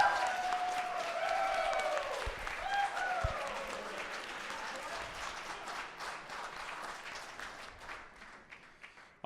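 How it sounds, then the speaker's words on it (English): Audience applause after a startup pitch at an evening pitch event, steady dense clapping that slowly thins and fades over several seconds, with some faint voices mixed in. "All right, round of applause."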